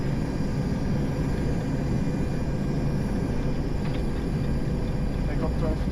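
Boeing 727-200 engines spooling at takeoff thrust heard from the cockpit, a loud, steady broadband roar and rumble filling the whole clip without pause.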